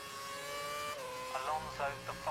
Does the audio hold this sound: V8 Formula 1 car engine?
yes